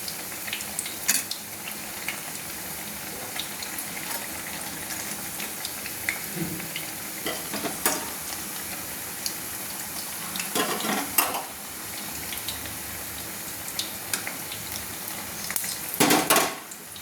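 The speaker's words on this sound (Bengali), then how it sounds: "এইভাবে গ্যাস লো ফ্লেমে রেখে আস্তে আস্তে ভাজতে হবে 5 মিনিট ধরে" Oil sizzles steadily in a pan as eggplant fritters fry slowly on a low flame, while a utensil occasionally clatters and scrapes, with a louder clank near the end.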